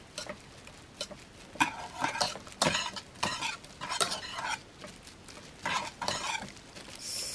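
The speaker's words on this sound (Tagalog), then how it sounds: "haluin natin hanggang mag-dissolve yung gelatin" Bloomed gelatin is stirred until it dissolves, with quick clinking, scraping utensil strokes in irregular bursts, close up and quiet.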